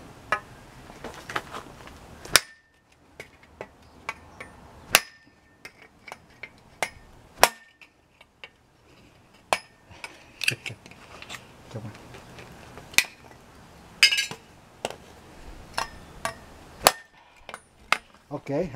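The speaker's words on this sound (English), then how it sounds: "Pretend a piece of wood and we'll chop down on it." A thick 52100 steel knife chops down onto wood in a series of sharp, loud, separate impacts at irregular intervals, with quieter handling noise between strikes.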